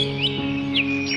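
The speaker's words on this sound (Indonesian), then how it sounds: "Burung-burung berterbangan dengan indahnya di udara." Birds in an animated story chirp in a few short, bright rising tweets spaced across the moment, clear and close over a steady tonal background hum.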